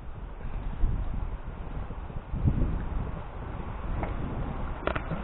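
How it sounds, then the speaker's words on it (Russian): Strong outdoor wind buffets the microphone in a steady low rumble with gusting surges, continuous for several seconds with no voices. "На улице сильный ветер. Так что извиняюсь, если будет задувать в микрофон."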